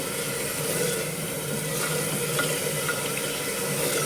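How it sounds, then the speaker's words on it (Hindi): Spice masala with powdered tomato sizzles and fries in a pan while being stirred for daal bari, a steady close crackling hiss with faint scraping and no talk. "अब हम इसको मिक्स कर देंगे इस तरह से। मसालों को हमें अच्छे से कुक करना है।"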